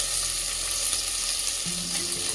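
Finely chopped onion sizzles in a hot pan with steamed peas for soy rice, a steady close frying hiss with a faint low hum throughout and no talking.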